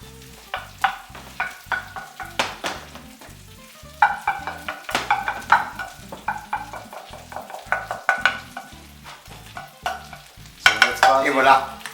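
Sausage frying in a pan until crisp outside, a loud close sizzle broken by repeated clacks and scrapes of a utensil turning and pushing the food, with bursts of stronger sizzling.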